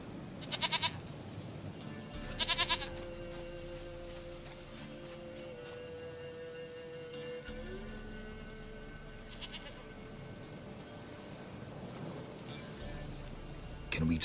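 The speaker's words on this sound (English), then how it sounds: "Goat of mine, dearest, sweetest goat." Several short goat bleats ring out at intervals in The Witcher 3: Wild Hunt, set against a constant low in-game ambience and a steady tone, with some bleats close and loud and others softer.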